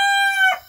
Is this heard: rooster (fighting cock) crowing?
yes